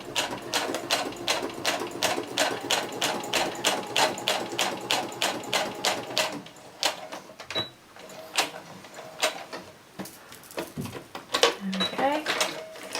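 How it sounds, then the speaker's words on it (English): A sewing machine stitches through a paper envelope notebook in rapid, regular bursts of mechanical clatter, pausing and restarting toward the end as the paper is repositioned, close and fairly loud. "So I'm just going to run this through my sewing machine."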